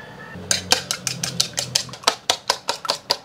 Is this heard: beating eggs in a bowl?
yes